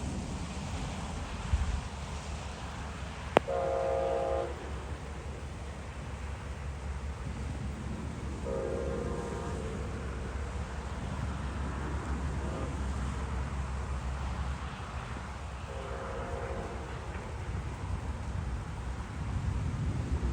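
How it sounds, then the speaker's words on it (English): The southbound Amtrak Silver Meteor passenger train approaches through Palm Beach County, Florida in the rain. Three distant horn blasts sound over a steady hiss of rainfall and a low rumble. "now approaching in the rain is the Amtrak Silver Meteor, southbound through Palm Beach County"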